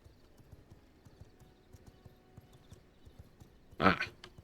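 Horse hooves clip-clopping in the video game V Rising, a steady quiet patter of hoofbeats throughout, ending with a louder, brief burst that sounds like a whinny or snort.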